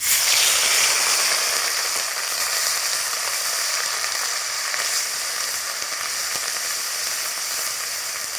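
Onion paste with nigella seeds hits hot oil and gives a loud, dense sizzle that starts strongest and then holds steady and close. No voices are heard over the frying.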